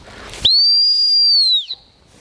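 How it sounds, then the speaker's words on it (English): A single loud, steady gun dog training whistle blast holds for about a second during work with Bella, a gun dog, then cuts off cleanly into quiet outdoor ambience. "The whistle wasn't strong enough."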